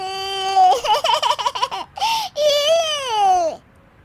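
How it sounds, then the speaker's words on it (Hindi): A baby cries loudly and close by, a long wailing cry with a wavering, sobbing middle that breaks into short hiccuping bursts before a final sustained wail, set in a Hindi-dubbed film scene. "ये बच्चे के रोने की आवाज़ कहाँ से आ रही है?"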